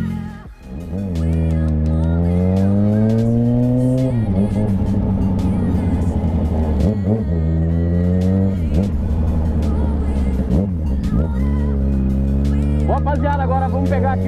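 Yamaha XJ6 motorcycle engine droning loud and steady while riding along a highway, with repeated rev rises as gears change, and someone talking over it.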